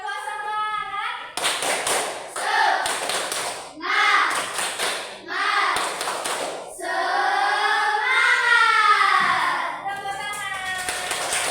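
A group performs the rhythmic 'tepuk semangat' clapping chant for a school innovation assignment, with sets of crisp claps in a repeating pattern mixed with loud sung and shouted group voices, close by.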